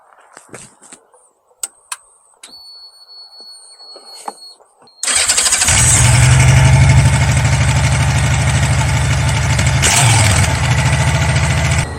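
A Honda Rune motorcycle engine fires up after a few faint clicks and handling noises, then runs loud and close with a steady, heavy idle that holds to the end, with a brief blip in the revs near the close.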